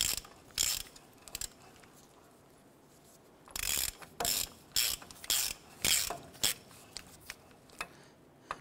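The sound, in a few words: ratchet with 27 mm socket tightening ball joint nut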